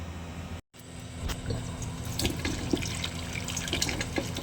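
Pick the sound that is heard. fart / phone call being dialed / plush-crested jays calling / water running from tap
water running from tap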